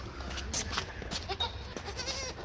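Several goats, including young black kids, bleat in short, close, fairly loud calls that overlap over a steady outdoor background, with no talking.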